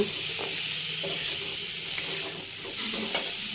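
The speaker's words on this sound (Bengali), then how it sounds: "এবার এর মধ্যে নুন, ধনে জিরেগুলো, হলুদ সব দিয়ে এটা ভাজা হচ্ছে।" Salt, coriander, cumin and turmeric frying in a pan for katla fish curry, a low steady sizzle and hiss with occasional soft stirring clicks, close and even.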